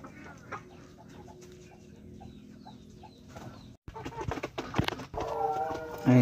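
Rhode Island chickens cluck at feeding time, soft scattered clucks and chirps at first, then busier, louder pecking and scratching noises close by with a few sharper calls.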